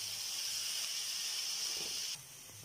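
Onions fry in a pan for onion chutney, giving a faint, steady hiss that drops off abruptly near the end.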